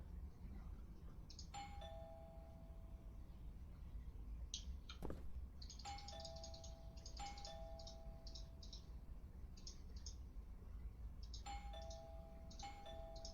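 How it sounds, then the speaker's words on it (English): A doorbell in the video game Within chimes several times in a quiet scene, repeated two-tone rings spread through the clip with faint background hiss and no talk. "I should just ring the doorbell, see if he answers."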